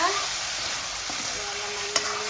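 Tomatoes fry and get stirred in a pan, a close continuous sizzle with faint scraping and one small clink near the end, no voices.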